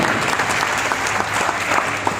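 A crowd at an Indonesian political gathering claps for an introduced guest, a loud, dense, unbroken burst of applause filling the whole moment.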